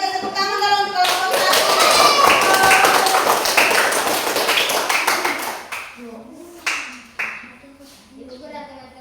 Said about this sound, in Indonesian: Kita berikan tepuk tangan kalau untuk kelompok